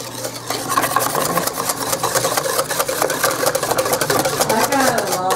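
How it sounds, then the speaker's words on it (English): A wire whisk stirs thick sour mash for moonshine, giving a rapid, rhythmic churning slosh with a rattling, engine-like pulse that stays loud and close throughout, with a voice at times underneath. "Just want to stir this. And I find that a wire whisk works great for breaking up"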